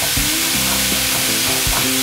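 Cauliflower rice being stirred in a hot pan for a keto pulao, with a steady loud sizzle throughout and repeated scraping strokes of a spoon against the pan.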